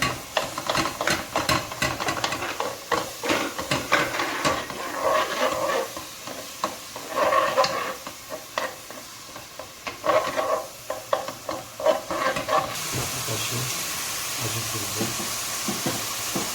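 Minced meat frying and being stirred with onions in a pan for okra stew, a steady sizzle under scraping, rubbing stir strokes that come in bursts and then settle into a continuous hiss.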